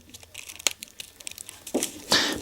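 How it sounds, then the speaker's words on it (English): Plastic packaging of a 128GB SanDisk SD card being peeled back by hand, irregular crinkles and sharp tearing snaps building to a louder rip near the end, close up. "supposed to be easy peel bit of packaging, but it proved a little bit difficult for me"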